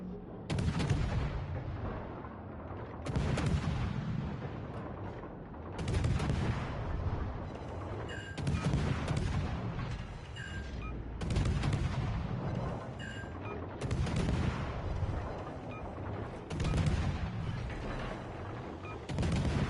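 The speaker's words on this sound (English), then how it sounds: "All stations, concentrate fire on the target." Naval guns firing in World of Warships Legends, a sustained battle din of repeated heavy salvos with booming rumbles recurring every couple of seconds, loud and continuous.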